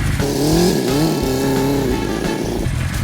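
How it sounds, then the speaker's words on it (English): A tuned vintage motorcycle engine revs up and down close by, its loud throttle blips rising and falling in a few quick bursts with no talk. "What a nice tuned bike."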